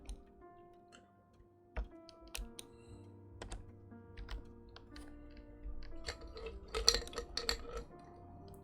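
Computer keyboard typing in uneven bursts of sharp clicks, close and fairly quiet, becoming quicker and denser toward the end, with no speech.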